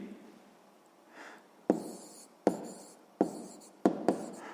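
Pen writing down an answer on paper for a sixth-grade maths exercise: soft scratching strokes followed by four or five sharp taps of the pen against the page, close and quiet, no voices.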